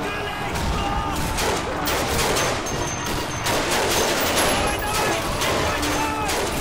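Gunfire from a tap-fired gun in Call of Duty 2 on veteran difficulty, a dense, continuous rattle of shots with a busy battle din underneath, loud and steady throughout.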